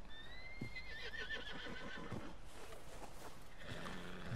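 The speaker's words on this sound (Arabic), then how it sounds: "هاد الحصان اخوتي راه احسن حصان" A horse in Red Dead Redemption 2 lets out a loud, wavering whinny, followed by snorts and clip-clopping hooves and rustling movement, heard close with no speech.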